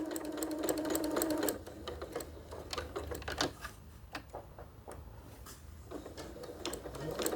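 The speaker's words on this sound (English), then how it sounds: "I'm just going to basically sew this around" A sewing machine stitches around the edge of a small fabric pocket prayer quilt, buzzing in close, rapid bursts that pause and restart with light mechanical clicks between runs.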